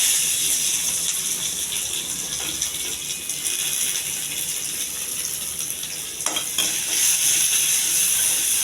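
Onion pieces frying in oil with mustard seeds, cumin and urad dal, a constant close sizzle with a few brief clicks and scrapes late on, no voices over it.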